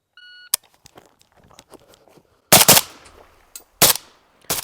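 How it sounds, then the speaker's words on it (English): Suppressed 5.56 Galil-style AK rifle, heavy with adjustable gas, fired outdoors: a few sharp muffled reports spaced apart, loud and close, with quieter clicks and handling noise between shots. "Really very, very smooth shooting rifle, very heavy."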